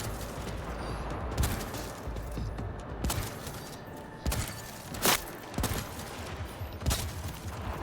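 Gauss rifle fire in Cyberpunk 2077: Phantom Liberty, several sharp cracks spaced irregularly over a dense, steady game soundscape, with no voices.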